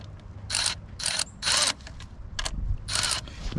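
Four bursts of rapid clicking come from a ratchet wrench turning an E10 socket on engine bolts during alternator replacement on a 2009 Mini Cooper. Each burst lasts about a quarter to half a second, with short pauses between them.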